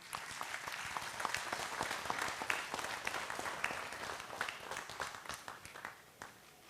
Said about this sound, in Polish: Jeszcze raz duże brawa gratulujemy.